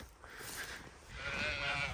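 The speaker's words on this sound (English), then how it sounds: "And the sheep are very excited." Sheep on a farm bleat in overlapping, wavering calls across the whole short stretch, close and fairly loud against outdoor background noise.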